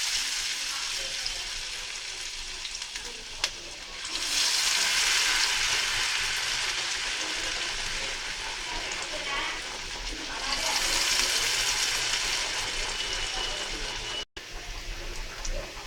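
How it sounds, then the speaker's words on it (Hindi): Bread fingers frying in hot oil over medium heat, a broad steady sizzle that swells louder in two long bursts, continuous and fairly close. "अब इन्हें मीडियम आंच पे हम अच्छी तरह से दोनों तरफ से गोल्डन ब्राउन होने तक सेक लेंगे।"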